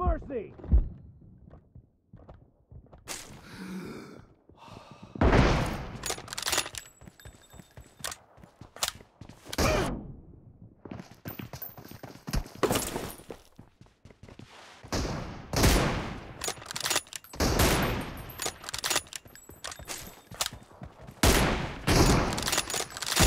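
Gunfire in an M24 sniper-rifle video game match, with repeated sharp shots and bursts scattered across the clip amid footsteps and other game sounds, while players talk over much of it.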